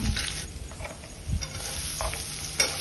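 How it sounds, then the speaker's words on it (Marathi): Cumin, crushed garlic, hing and onion frying for a tempering in a pan, a soft continuous sizzle with occasional scraping stirs, quiet and close, no voices. "फोडणीसाठी आपण घेतलं आहे जिरं, थोडासा ठेचलेला लसूण, थोडंसं हिंग आणि खूप सारा कांदा"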